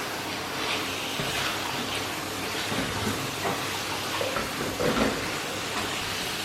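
Spiced minced meat (keema) with garam masala frying in a pan as filling for criss-cross samosa pasties, a steady close sizzle with faint stirring scrapes and no voices.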